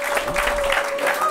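A church congregation applauding during a sermon, with dense, loud, sustained clapping and a steady high tone running underneath.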